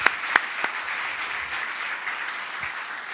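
Applause from an audience at a Buddhist monk's Q&A talk, a few distinct near claps at the start giving way to a steady, moderate clapping texture that carries through the clip.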